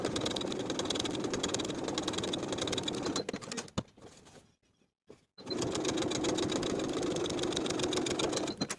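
A sewing machine edge stitches a dress seam toward the neckline with a steady, close whirring hum. The stitching stops briefly about midway, then resumes at the same pace.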